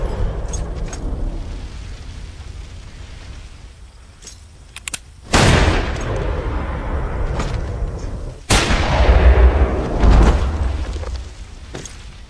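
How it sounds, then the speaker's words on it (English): Sharp, loud gunshot bursts ring out twice over a tense low rumble in the movie The Salvation (2014), each blast followed by a lingering reverberant tail. "After the gunfire, John and Madeline pointed weapons at each other."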